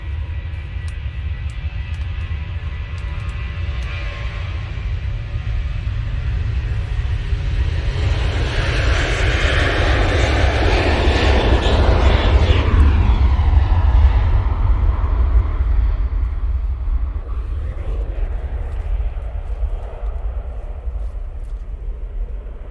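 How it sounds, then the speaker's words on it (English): An airliner departing Manchester Airport for Faro roars through its takeoff roll, the engine noise building to a loud peak midway and then fading as it moves away. "Right now on the roll,"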